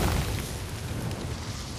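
Explosion in the video game God of War (2018): a deep, rumbling boom that rolls on steadily for a couple of seconds with no one talking over it.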